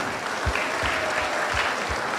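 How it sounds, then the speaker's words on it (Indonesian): An audience at a church talk show celebrating the feast of Saints Peter and Paul breaks into steady applause, a full crowd clatter with a few low thumps running through it. "Tepuk tangan."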